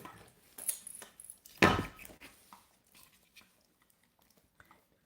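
A dog gnaws on an object close by, making irregular crunching and clicking bites with one sharp louder crunch, then smaller scattered nibbles that fade to faint ticks in a quiet room.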